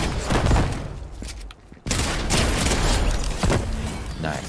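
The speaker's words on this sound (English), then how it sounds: "Gunshots." Rapid bursts of gunfire in Fortnite, a dense volley of shots filling the clip, broken by a brief lull before the shooting resumes loud and close.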